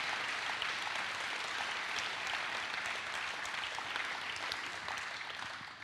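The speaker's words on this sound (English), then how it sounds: "please give them a round of applause" A church congregation at a Sunday thanksgiving service and annual meeting applauds the leadership team with steady, dense clapping from many people that holds evenly for several seconds and eases off slightly at the end.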